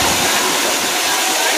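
Water rushes at Nidan waterfall in Jabalpur, a loud, steady, broadband roar that fills the whole moment without pause.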